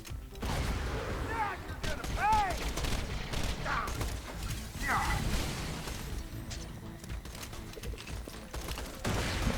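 A grenade explodes amid gunfire in the Borderlands video game, with rapid shots and bursts scattered through nearly ten seconds of busy combat noise, and short chirping game effects near the start.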